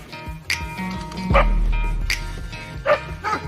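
A curious dog playing with a kangaroo near water barks and yips several times, the sharp calls rising over a low rumble of background noise.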